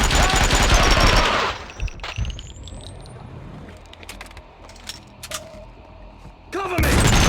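Bursts of gunfire from the PC shooter Max Payne 2, loud rapid shots at the start and again at the end, with scattered softer shots and mechanical clatter between them.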